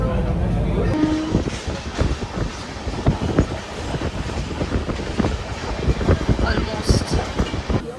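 Passenger train running on its journey from Pune, with a steady rumble and rhythmic clatter of the rail carriages throughout, close and fairly loud, and a brief squeal early on.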